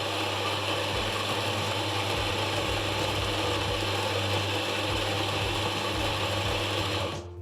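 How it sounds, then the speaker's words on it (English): An Anfim Scody commercial cafe grinder grinds a double shot of coffee into a portafilter, a steady loud mechanical whirr with gritty texture running for several seconds before cutting off at the end. "grind a double shot into the portafilter to kind of see how it operates, how it sounds, and how fast it is"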